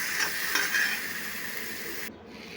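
A vegetable frying in a pan with green chili paste while being stirred: a steady, close sizzle with soft scraping strokes, which drops sharply near the end.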